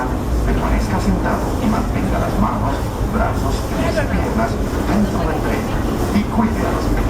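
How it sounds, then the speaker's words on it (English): The Disneyland Railroad train rumbles along with a continuous rolling clatter of wheels on rails, with muffled chatter from passengers underneath. "welcome aboard the Disneyland Railroad"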